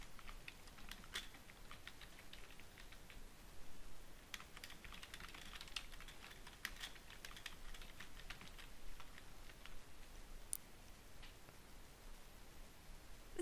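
Keys clatter on a computer keyboard in quick, uneven bursts of light taps with short pauses, close and fairly quiet, with no voices over it.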